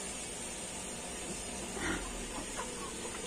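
Faint clucking from a hen, a couple of soft short calls over a steady background hiss in a quiet enclosed space.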